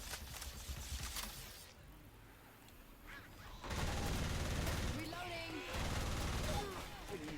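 Bursts of gunfire from a first-person shooter video game, a loud dense stretch in the second half after a quieter spell, with a voice talking over it.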